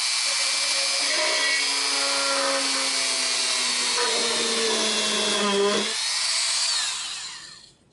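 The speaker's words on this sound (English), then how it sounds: "You want to drill through both the door and the top of the enclosure at the same time." A power drill whines as it bores through an acrylic enclosure door and top together, the motor pitch sliding and straining as it cuts through, then winding down, under a brief voice.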